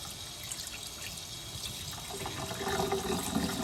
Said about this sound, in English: And now I'm just gonna rinse it off with cold water.